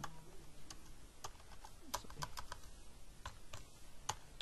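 Keys tapped on a computer keyboard while a line of text is typed, in quick irregular clicks with short pauses, close and fairly quiet over a low room hum.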